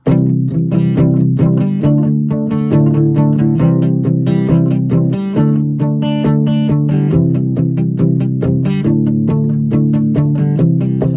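Acoustic guitar strummed in a steady rhythm, moving through several chord changes, close and fairly loud with no voices.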